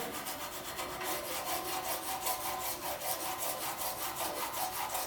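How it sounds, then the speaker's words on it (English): A steel file rasps along the beveled edge of a metal etching plate in steady, rapid back-and-forth strokes, close and continuous with a bright gritty texture throughout. "Some people like to file like this, some people like to file like that. I like to file like this."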